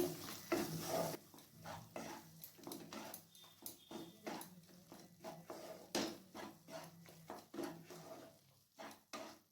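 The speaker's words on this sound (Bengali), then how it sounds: "এরপর আবার ভালো করে মিশিয়ে নিচ্ছি।" Matar paneer curry with roasted kasuri methi is stirred in a pan: repeated soft scraping strokes in an irregular rhythm, close and fairly quiet, with a faint sizzle beneath.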